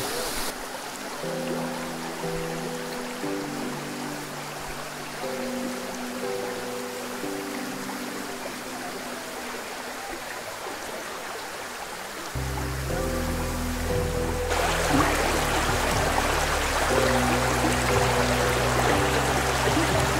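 Continuous rushing noise of Abbey Falls in Coorg, India, at low summer flow, broadband and steady, growing louder and fuller partway through, with faint tonal music beneath.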